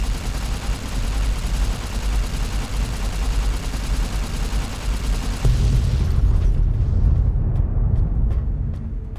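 Nuclear missile explosions in Fallout: New Vegas Lonesome Road, a sustained, loud, rumbling roar of blasts with dense low-end boom that deepens partway through and lingers with faint crackle.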